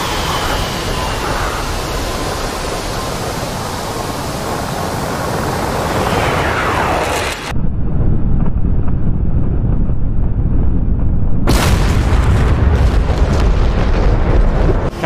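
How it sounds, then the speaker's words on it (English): Bombs exploding in an A-10 Warthog flight simulator game, a heavy steady roar of rumbling blasts and wind-like engine noise, loud and continuous, with a sudden deeper surge partway through. "Bomb in between them."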